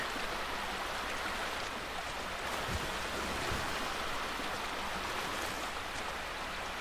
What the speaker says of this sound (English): I wonder if there's anything under the waterfall.